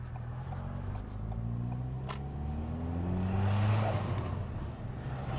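A 400bhp Ford Fiesta ST2 running 30psi of boost pulls away, its engine note rising steadily in pitch through the gears, loud and close with a turbo whoosh building over the drone.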